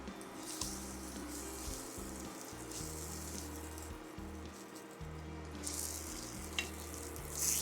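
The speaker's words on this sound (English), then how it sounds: "Cook the pancakes for 25 or 30 seconds aside, then flip them." Banana pancakes fry in a pan, a steady close sizzle and crackle with a low hum in the background and a few brief louder bursts.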